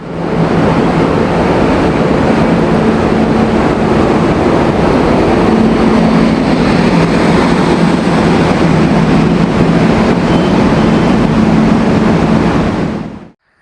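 Steady loud rumble and rattle inside a passenger coach of the Mangaluru to Chennai Egmore express, continuous wheel and track noise with a faint hum, holding evenly throughout before cutting off at the end.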